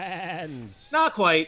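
A human voice mimics a goat's wavering bleat twice in quick succession during a Curse of Strahd tabletop game, following a bit of casual talk.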